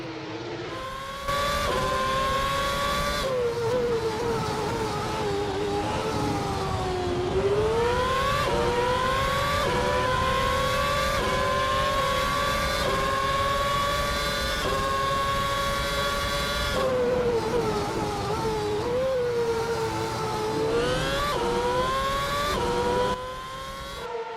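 Formula 1 race cars in a racing video game at the 2012 Indian Grand Prix, engines screaming in sustained high-pitched whines that rise and fall with gear shifts, several cars blending together loudly and continuously with no talk.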